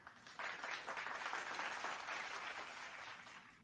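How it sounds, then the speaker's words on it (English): Quiet applause from a small group heard over a live stream, a steady patter of clapping that swells after a brief pause and stays even before tapering slightly. "we got to give her applause."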